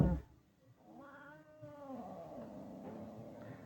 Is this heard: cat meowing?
yes